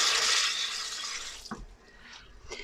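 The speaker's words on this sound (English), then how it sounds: "So put another 50 grams of water." Water pours into a container while mixing a 50-50 lye solution for soap making, a bright close rushing stream for about a second and a half, then a few small splashes and clinks as it stops.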